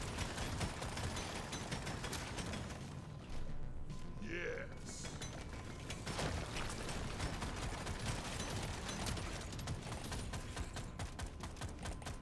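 Steady rapid gunfire from a weapon in Deep Rock Galactic, a continuous dense rattle of shots running throughout at moderate level, with faint clinks and game sounds mixed in.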